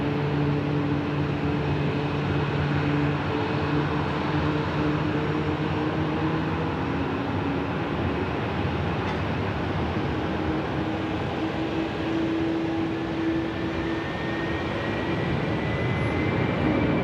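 An airliner departing Sydney Airport at curfew, its engines a steady broadband roar with a droning low hum that holds throughout, loud and continuous with no voices.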